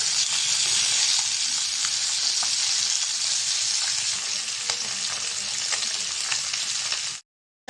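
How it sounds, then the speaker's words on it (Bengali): Fish frying in a pan hisses loudly and steadily up close, with scattered crackles and pops, then stops abruptly near the end. "এই মাছটা উঠাই দিব তাও ভাজা হয়ে গেছে ওই পিঠটা"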